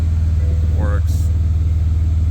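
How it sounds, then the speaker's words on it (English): A 2015 BMW F80 M3 engine idles with a steady low, pulsing exhaust burble, not very loud, close by, and a brief voice passes over it. "Exhaust sounds pretty good. It's not super loud. Engine sounds very healthy."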